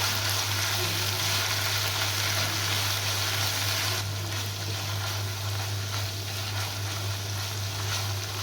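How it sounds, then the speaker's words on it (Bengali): Ground spice paste fries in a pan for a spicy Bangladeshi prawn bhuna, giving a steady, close, loud sizzle that carries without a break from start to finish, with no one talking. "বেটে রাখা মশলাটা আমি একটু সময় নিয়ে ভেজে নিচ্ছি"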